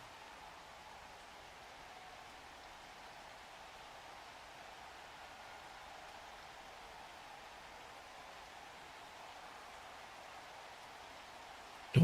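Rain in the video game Blood Bowl 3, a soft, steady hiss that holds evenly throughout at low level, with no talking.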